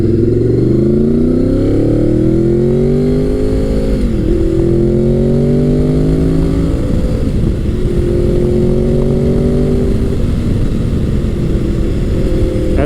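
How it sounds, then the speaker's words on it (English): Gen 5 Honda VFR800 V4 motorcycle on the road, loud engine repeatedly accelerating through the gears, with rising revs, brief shift dips and a smooth, continuous V4 drone throughout. "And then there's that beautiful V4 sound."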